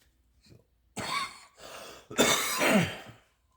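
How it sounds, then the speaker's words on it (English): A man coughs and clears his throat in a few harsh bursts, close and loud, with short pauses between them and a rough, rasping final hack trailing off. "got me coughing."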